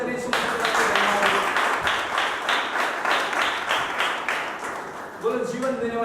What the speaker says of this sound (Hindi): जोर से ताली बजाकर यीशु मसीह का